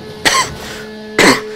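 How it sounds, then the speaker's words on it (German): Two sharp coughs about a second apart from a man with a cold, close to the microphone, with a faint steady hum of a racing game running underneath. "Sorry, wenn ich husten muss."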